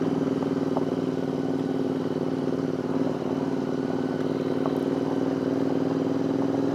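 A motorcycle rides along a rough, disused military mountain road, its engine droning steadily and loudly throughout with a faint rattle over the uneven surface.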